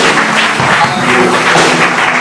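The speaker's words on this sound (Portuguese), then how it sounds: "aplauda o Senhor" A congregation applauds the Lord at a Pentecostal-style prayer service in Belo Horizonte, a loud, continuous roar of clapping that fills the room without a break.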